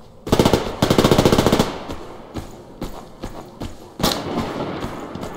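AKM rifle bursts in the video game Survarium: a loud rapid string of close gunshots, then a pause, scattered single shots and another short burst, with no voices.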